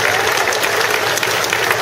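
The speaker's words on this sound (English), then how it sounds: "Please give yourselves a round of applause." An audience applauds at the opening remarks of a City College of San Francisco Chinatown North Beach campus event, a dense, steady wash of many hands clapping loudly and continuously throughout.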